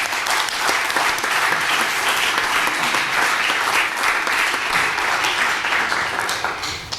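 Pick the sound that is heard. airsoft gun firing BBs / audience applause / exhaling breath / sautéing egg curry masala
audience applause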